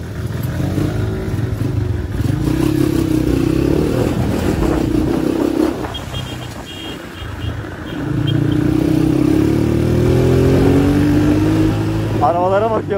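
A motorcycle revs and rides along, its engine rising and falling in pitch up close while people talk over it.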